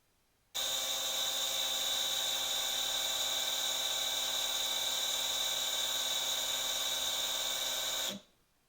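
Engine being spun over with a tool to build oil pressure: one continuous, even high-pitched whirring drone that starts abruptly, holds steady for about seven seconds and then stops.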